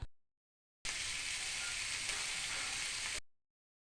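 Pork sizzles in a pan as its fat renders out, a steady bright crackling fry that starts abruptly, holds at an even level for a few seconds, then cuts off into silence.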